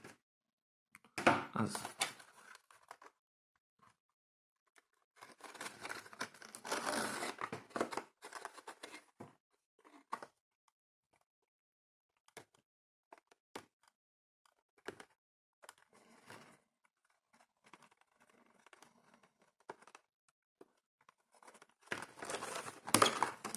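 Plastic blister packaging of a GP PSR51 flashlight being cut open with scissors, bursts of crinkling, tearing and snipping separated by quiet pauses, close and fairly faint.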